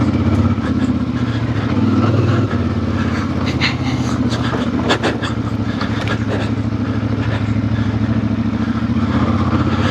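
A CF Moto IBEX 450 with a 270-degree crank parallel twin engine runs off-road, a steady loud engine drone with throttle changes and brief rattling impacts, no talk.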